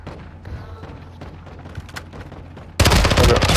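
AK rifle fire in a shooter video game erupts as a loud, sustained burst near the end, following quieter in-game ambience and scattered thuds.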